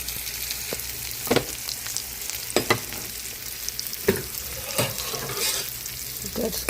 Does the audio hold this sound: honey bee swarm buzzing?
no